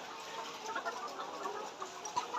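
Chickens cluck softly and intermittently at some distance, over a quiet, continuous background hum.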